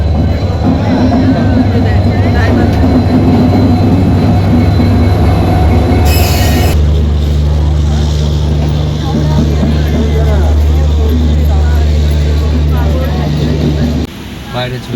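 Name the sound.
train arriving at station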